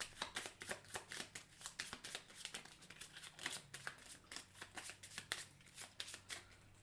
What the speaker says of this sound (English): then this card gets shuffled back in